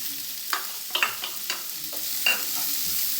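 Chopped onion frying with roasted cumin and fennel seeds, a low hiss broken by several spatula scrapes and stirs spaced through the clip, close and fairly quiet, without speech.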